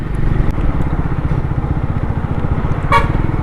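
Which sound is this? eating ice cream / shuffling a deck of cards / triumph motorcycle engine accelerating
triumph motorcycle engine accelerating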